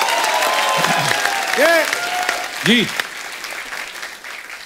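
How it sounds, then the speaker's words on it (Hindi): Studio audience applause on a television comedy show, clapping filling the background at moderate volume while someone speaks briefly and voices call out over it. "तो जोरदार तालियों से स्वागत कीजिए"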